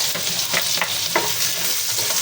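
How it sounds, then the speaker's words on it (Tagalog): Garlic sautéing in hot cooking oil in a pan, a steady, close, dense sizzle with bursts of stirring scrapes throughout and no talk. "Okay po, igisa na natin yung ating bawang."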